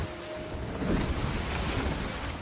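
A sailing ship crosses ocean waves in the Sea of Thieves video game, with steady rushing surf and wind noise that swells slightly midway and continues without pause.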